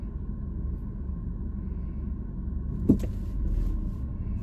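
A GMC vehicle idles in a school drop-off line, a steady low rumble close by, with a brief sharp knock partway through and no talking.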